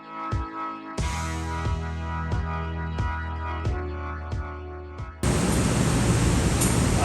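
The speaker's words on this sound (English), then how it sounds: "I'm going to open up this tank. When I open it up, you're going to hear a hissing sound." Carbon dioxide hisses out of an opened whiskey fermentation tank at the J.P. Wiser distillery in Windsor, Canada. A loud, steady rush of hiss cuts in abruptly after a stretch of rhythmic background music and keeps going to the end.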